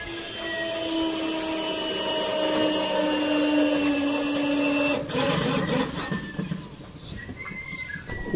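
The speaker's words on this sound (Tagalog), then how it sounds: "Lakas ng barena." A power drill whines steadily and loudly with a sustained high motor tone during roof leak repairs, then cuts off partway as clattering and knocks take over.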